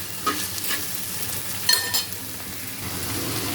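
Okra fry seasoned with turmeric, chili powder and salt is stirred in a pan, producing a loud, continuous sizzle with scraping stir strokes and a brief clatter partway through.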